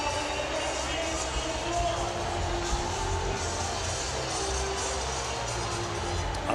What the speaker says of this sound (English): there's a reaction from the crowd